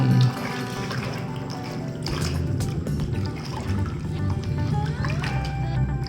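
Water splashes and runs while a muddy toy cement mixer truck is washed and shaken, a continuous wet sloshing with trickles and small bursts, fairly close and loud.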